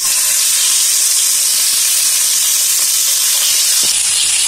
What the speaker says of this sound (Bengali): মাছগুলো গোল্ডেন ব্রাউন করে ভেজে নিব।